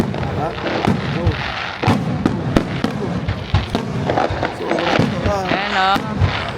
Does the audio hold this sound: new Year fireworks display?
yes